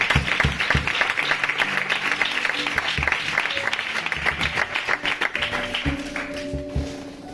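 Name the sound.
congregation applause in church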